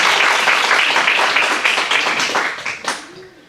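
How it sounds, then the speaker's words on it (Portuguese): A math-seminar audience at FACIP applauds a graduating mathematics student: dense, steady clapping from many hands that thins out and fades over a few seconds, with a few last claps near the end. "Palmas a Fernanda."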